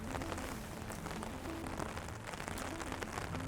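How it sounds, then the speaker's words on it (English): Rain falling steadily on foliage and surfaces inside the Biosphere 2 indoor tropical rainforest, a dense, even patter of drops that fills the whole stretch with no voices. "the rain that's starting to come down"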